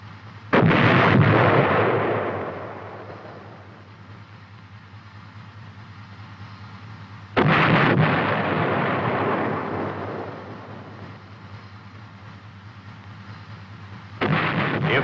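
Cannon of an M551 Sheridan light tank firing HEAT rounds: three heavy booming blasts, each followed by a long rumbling decay, spaced several seconds apart and heard without any talk.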